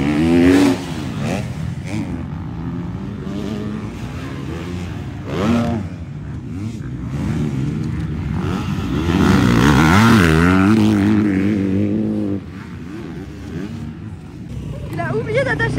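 Supercross motorcycle riding a warm-up session before time practice, engine revving and rising and falling in pitch at mid distance, with someone talking throughout.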